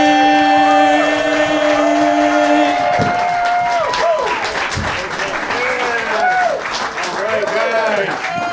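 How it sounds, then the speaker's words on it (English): A comedy club audience in DC claps and cheers for a comedian coming on stage, loud and continuous. A voice talks and a tonal sound rings over the start. "I need you to start clapping right now. I need you to make some noise."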